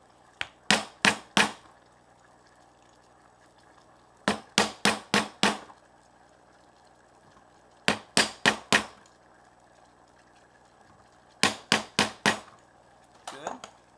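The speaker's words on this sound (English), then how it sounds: "Now let's hammer these out while it's still good and warm." Warm hard rubber and plastic pieces are struck with a hammer in four quick bursts of three or four sharp, close blows each, separated by pauses.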